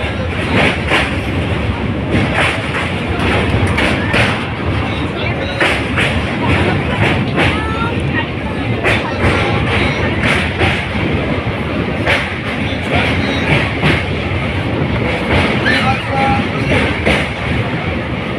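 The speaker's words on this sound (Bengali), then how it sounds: "ট্রেন খুলে গেছে" A passenger train runs along after pulling out of Sitarampur station, heard from inside as a loud continuous rumble with regular clickety-clack wheel thumps over rail joints and faint voices in the carriage.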